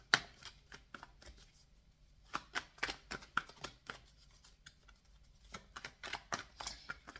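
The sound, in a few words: shuffling oracle cards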